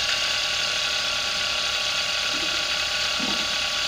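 Pink motor generator spinning at about 2,000 RPM under a resistive load on its coils, giving a continuous, fast mechanical whir with a buzzing, ratchet-like rattle, steady and fairly close.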